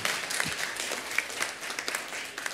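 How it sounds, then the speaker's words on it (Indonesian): Congregation applauding for God during a church prayer rally service, a fairly faint, continuous patter of many hands clapping with a few sharper claps standing out. "Tepuk tangan sekali lagi buat Tuhan Allah kita."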